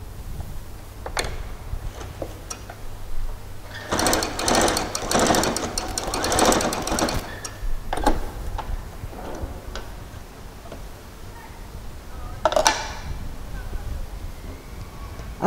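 A sewing machine stitching the side seam of a pair of shorts, running in a loud rapid burst for several seconds between quieter ticking clicks, with a brief second run near the end.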